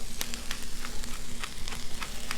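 Chunks of onion frying in oil on a Blackstone griddle, a steady close sizzle crackling with small pops and faint scraping.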